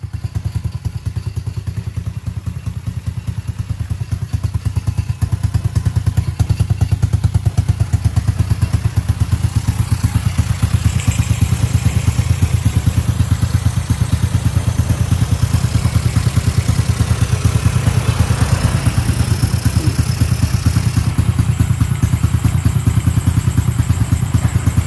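A large diesel engine, a big 54-horsepower unit, runs steadily up close with a loud, dense rhythmic chugging and clattering pulse that holds constant throughout.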